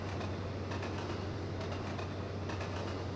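An Intercity 125 train with a Valenta diesel engine in the Trainz Plus simulator, a steady low engine drone with a faint hum and some rumbling rail noise, fairly quiet and even, with no voices.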